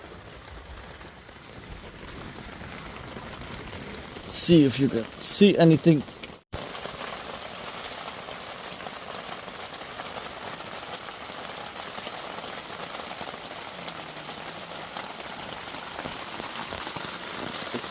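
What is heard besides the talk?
rain falling on a car tent at night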